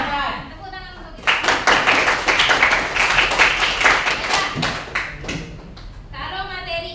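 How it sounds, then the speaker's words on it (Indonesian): A classroom of students clapping together, a burst of quick, fairly close rhythmic claps lasting about four seconds, with someone speaking just before and again as the clapping trails off. "Tepuk tangan untuk kita."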